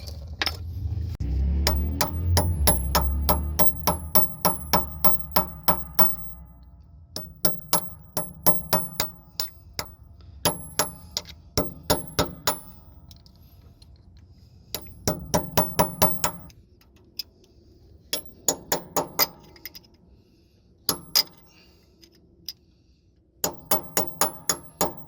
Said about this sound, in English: So we're gonna go ahead and remove this nut.